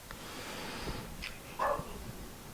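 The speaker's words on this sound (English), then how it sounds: "What are you barking at? Who is outside?" A dog indoors gives a few faint, brief barks or yips at someone outside the house, with one louder bark near the end over a quiet room hiss.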